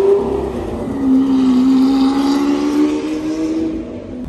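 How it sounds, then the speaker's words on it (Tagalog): A car revs loudly as it passes close by on a city street at night in Singapore, engine pitch climbing then easing off over a few seconds, with no talking. "Hindi ko alam anong kotse yan eh. Ganda."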